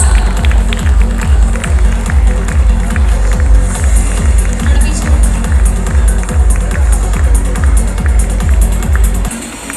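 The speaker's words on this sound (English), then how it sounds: "Please everyone clap for them to motivate all the learners." Loud, dense crowd applause with steady rhythmic clapping, as though many hands beat in time, fills a school annual day award ceremony in Karimnagar. It carries on without a break and cuts off sharply near the end.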